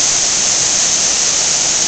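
Amicalola Falls in the Georgia state park gives a loud, steady, broadband rush of falling water that runs unbroken throughout the clip.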